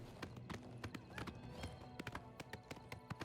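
Horse hooves clip-clopping in the video game The Elder Scrolls IV: Oblivion Remastered, quiet and fairly rapid irregular thuds of a horse moving, with no speech over them.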